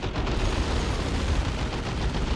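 Dense, unbroken battlefield gunfire from an Orks versus Tyranids match in Warhammer 40,000: Dawn of War 2, a steady loud barrage of overlapping shots with no pauses or reloads.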